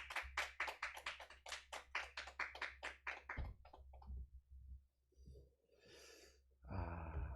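A church congregation at Sunday worship applauds to welcome the pastor: a run of sharp claps in a fairly even rhythm for a few seconds, faint and distant, then scattered small noises and a brief voice.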